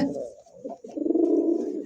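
A pair of pigeons at a wholesale pigeon market coos close by, a soft, low, rolling call that dips briefly and then swells into a steady burbling coo.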